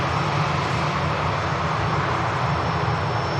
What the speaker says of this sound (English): Ryanair inbound from Dublin about to touch down.